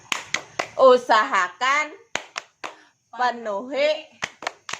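Sharp hand claps in a quick, steady rhythm punctuate a chanted phrase in a classroom-style training session, each clap crisp and close, alternating with bursts of voiced chanting.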